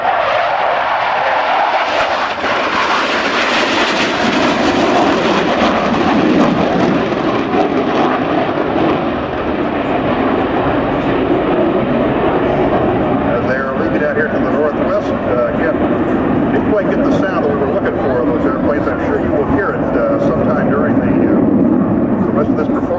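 F-104 jet airplanes making a pass at an air show, a loud sustained roar that swells and then fades into a rushing, distant rumble, with a commentator's voice under the noise.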